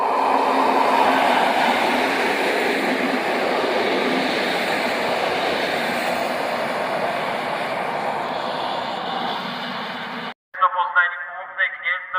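A train arriving at the platform of Rawicz station, its loud rolling rumble sustained for about ten seconds before cutting off, then a public-address announcement is heard.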